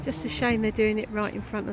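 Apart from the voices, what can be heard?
No everyday noise stands out behind the speech.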